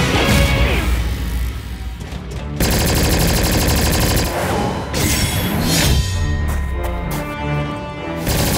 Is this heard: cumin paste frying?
no